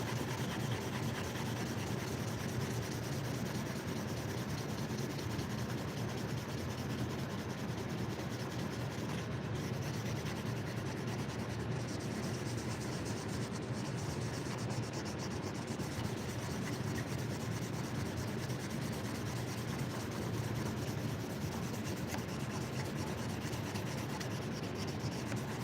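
Knife blade worked across a 2,000 grit whetstone, a continuous soft gritty rubbing that stays steady and fairly faint throughout.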